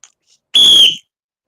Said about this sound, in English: All right, blow the whistle, Joe.